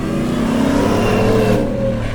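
A Shelby F-150 Super Snake pickup accelerates hard on a dirt surface, its engine roaring loud and close with a rising tone and steady rumble throughout.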